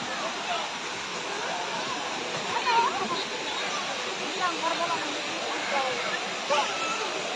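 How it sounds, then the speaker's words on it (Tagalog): Ragatak Falls in Maragondon, Cavite, a steady broad rush of falling water filling the scene at moderate distance, with people talking over it. "Ito yung Ragatak Falls."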